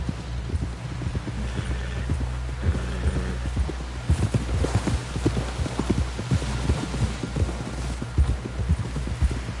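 Horse hooves clip-clop steadily at a trot in Red Dead Redemption 2, a continuous close rhythm of sharp knocks over a low rumbling hum, with no talk.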